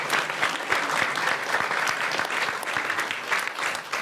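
Audience applause at a Wisconsin state budget signing event, a lively spread of many hands clapping with distinct individual claps audible, sustained throughout at moderate level.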